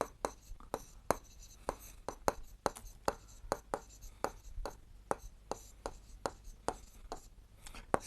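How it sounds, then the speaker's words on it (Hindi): A compass and pencil drawing a perpendicular line on paper for a geometry exercise make rapid, evenly spaced scratching strokes, close and fairly quiet, repeating steadily throughout. "चरण 3 में C पर एक लंब रेखा खींचनी है।"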